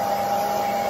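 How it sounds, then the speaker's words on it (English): A hair dryer blows steadily and loudly at close range while drying a damp Shih Tzu puppy during grooming, with an even, continuous whir and no pauses. "keep the hair dryer moving"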